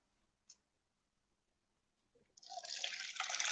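Tomatoes are swished through a bowl of tap water, a soft wet sloshing and splashing that starts after a brief drip and builds steadily, close and fairly loud, with no talking.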